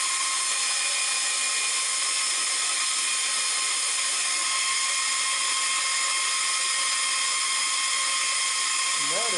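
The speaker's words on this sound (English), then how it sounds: "remove this excess wood here with a bandsaw." A bandsaw trims excess wood during the making of a bread knife from a 19th-century scythe blade. It holds a steady, piercing high-pitched whine with a constant tone throughout, close and continuous.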